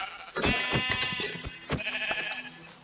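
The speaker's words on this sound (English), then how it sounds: "I'm going to get this sheep" Sheep in Minecraft bleat in a few short, wavering bursts, sounding close and clear against a quiet backdrop.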